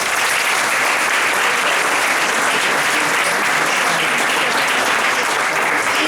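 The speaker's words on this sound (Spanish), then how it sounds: "un aplauso igual para Eloy." Audience applause fills an engineering gala hall, dense, even clapping sustained at full volume throughout with no break.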